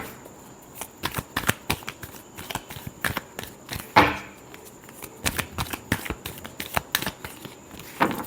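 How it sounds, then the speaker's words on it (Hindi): Tarot cards are shuffled by hand in a run of quick papery riffles and slaps, irregular bursts with short gaps, close and fairly quiet. "Last shuffle."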